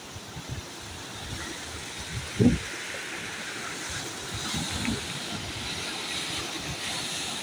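Floodwater and waves surge during Typhoon Tino near a wrecked breakwater, a low, diffuse wash of rushing water and wind with one brief dull thump, fairly faint and continuous.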